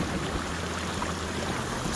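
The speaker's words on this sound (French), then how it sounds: "C'est un très beau ruisseau ici." Forest stream flowing steadily nearby, a continuous broadband rush of water with no breaks and no voices, in a wild woodland setting.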